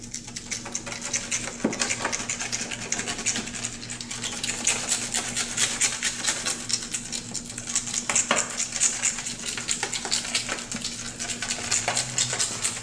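A blade scrapes and rasps steadily across a car headlight, shaving off polyurethane spray foam overspray in a continuous run of fine scratchy strokes with a few sharper clicks, close and alone.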